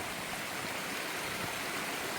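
A stream of water on the Appalachian Trail in North Carolina, a steady broadband rush and gurgle running continuously and fairly close, with no voices over it.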